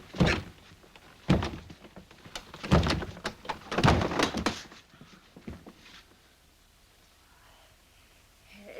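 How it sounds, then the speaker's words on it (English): Someone in a 1946 period drama trying to force and break down a locked door, several heavy thunks and thuds against the wood in irregular bursts, loud and near, fading to quiet at the end. "Can you break down the door?"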